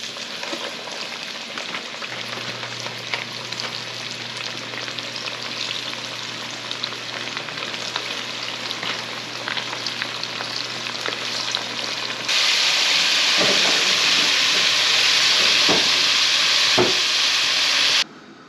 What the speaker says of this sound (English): So obviously we're frying fish.